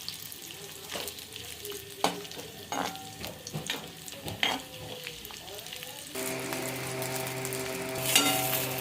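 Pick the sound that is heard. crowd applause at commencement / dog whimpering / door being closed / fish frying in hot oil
fish frying in hot oil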